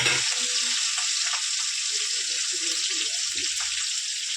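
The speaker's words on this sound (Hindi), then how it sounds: "अभी तो थोड़ा देर पूरा तेल में तलना है संगवारी वाला।" Onion, chilli and curry leaves fry in oil with a continuous bright hiss of sizzling, joined by a few soft stirring knocks and scrapes underneath.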